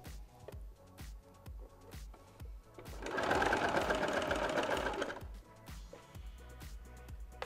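A sewing machine runs a decorative stitch to attach elastic toward the armhole of a two-piece women's swimsuit, with a steady whirring burst in the middle and quieter handling sounds before and after.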